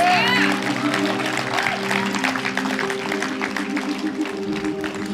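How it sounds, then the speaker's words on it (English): A congregation claps hands in a continuous, moderately loud patter beneath a voice and sustained tones at a worship gathering. "Clap your hands, all you people."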